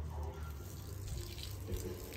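Water being sprinkled in a home garden, a continuous splashing, tap-like rush of water, close and steady throughout, without any talk.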